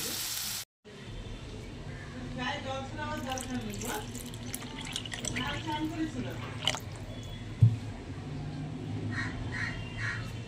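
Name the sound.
water poured into spice mix cooking in oil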